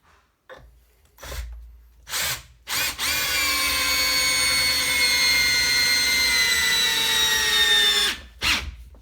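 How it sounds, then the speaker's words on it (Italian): A Parkside PABH 20-Li B2 cordless drill in screwdriver mode, without hammer action, driving a screw into wood: a few short motor bursts, then one steady high-pitched whine for several seconds and a brief final pulse, loud and close. "Provo ad avvitare anche questa vite sul legno, vediamo come va. Ovviamente modalità soltanto avvitatore, quindi senza la percussione."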